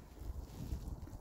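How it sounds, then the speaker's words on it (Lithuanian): Wind gusts across open water beside an icy shoreline on a sunny early-January day, a steady low rumble of air buffeting the microphone for just over a second. "Vėjas pučia"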